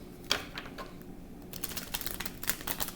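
Tarot cards being shuffled by hand beside a lit candle during a reading: close, irregular bursts of papery riffling and soft slaps, sparse at first and then denser and quicker, with no talking.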